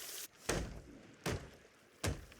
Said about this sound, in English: But first, I need to repair this hole.